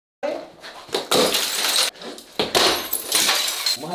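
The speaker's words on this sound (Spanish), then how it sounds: "Está bueno romper cosas" Glass objects smashed in a rage room, with several loud crashing shatters and scattering debris in quick succession, close by, with a voice briefly in the background.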